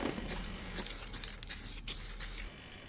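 Aerosol spray can misting Vanquish White car base coat paint onto a vehicle, a steady close hiss in several pulses broken by brief pauses, ending with the spray cut off.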